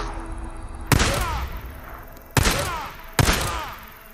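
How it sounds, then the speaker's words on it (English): Three sharp pistol shots in the Days Gone video game, spaced unevenly with the last two closer together. Each crack is loud and followed by a short ringing tail. "I'm gonna have to use my pistol, I guess."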